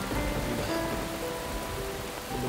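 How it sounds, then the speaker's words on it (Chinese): Heavy rain pours down in a continuous, loud, dense hiss that stays even from start to finish, with no voices. "下这么大的雨，在这里淋雨"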